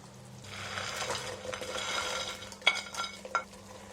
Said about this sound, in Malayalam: ഇഡ്ഡലിയുടെ പീസസ് ചേർത്തതിന് ശേഷം നന്നായിട്ടൊന്ന് മിക്സ് ചെയ്ത് കൊടുക്കുക